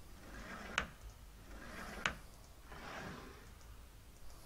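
A cherrywood desk drawer in Tex Murphy: Overseer slides and knocks shut twice with sharp clicks, followed by a softer third scrape, quiet and close with no talk.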